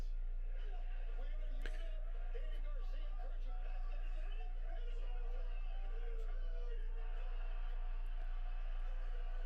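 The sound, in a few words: wrestling arena crowd erupting in cheers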